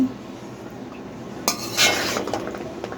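Fried chickpeas are served from a pan onto a plate with a spoon, giving a few sharp scrapes and metallic clinks against a quiet kitchen background.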